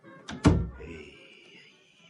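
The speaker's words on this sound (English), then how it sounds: "She locked the door, for God's sake." A door thumps shut with a quick double knock and a latch clunk, close and fairly loud, followed by a faint hum in a radio drama scene.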